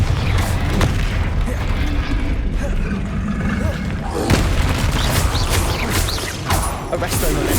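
Repeated Confringo fire spell blasts in the Hogwarts Legacy video game, booming explosions crackling and thudding in quick succession amid dense combat noise.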